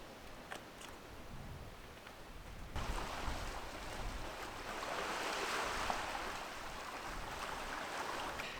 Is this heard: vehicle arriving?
no